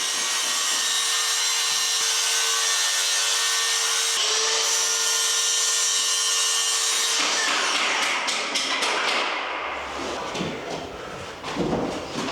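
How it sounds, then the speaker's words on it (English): A DeWalt 54 volt circular saw with a 185mm blade rips through architrave wood with a loud, steady high-pitched whine that shifts partway through, then the cut ends in rougher rattling and spin-down, with no talking. "I'm going to use it as a perfect time to try DeWalt's 54 volt saw."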